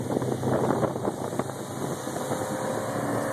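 Harris 220 Cruiser tri-toon pontoon boat from 2012 with a 150HP outboard engine cruising in January wind, a steady low engine drone mixed with wind buffeting on the microphone and water noise, continuous and moderately loud.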